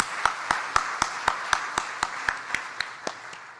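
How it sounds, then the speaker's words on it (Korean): At Daejeon Presbyterian Church, a Korean congregation claps in a steady, evenly spaced rhythm of about four beats per second, fairly soft and fading slightly toward the end. "자녀들을 위해서 축복의 박수를 한번 보냅시다."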